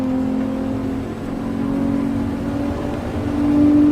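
A car's engine drones and revs in Gran Turismo Sport, a loud, steady buzzing tone that dips slightly then climbs in pitch toward the end, with no talking over it.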